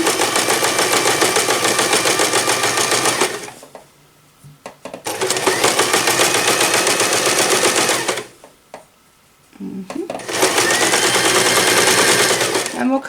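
A sewing machine stitches a drawstring bag, running fast and steady in three long bursts separated by short pauses, with a back stitch made along a seam.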